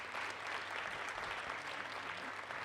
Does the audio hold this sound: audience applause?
yes